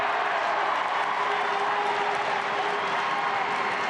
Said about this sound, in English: You can hear the crowd respond.